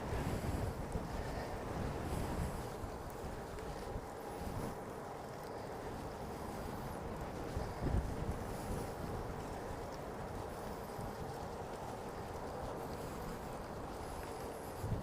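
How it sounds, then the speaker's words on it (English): Strong crosswind buffets the microphone on a bicycle tour in South Korea, a steady, loud roaring rush with gusty swells and a sharp thump near the middle, with no voices. "Oh, that's a good crosswind."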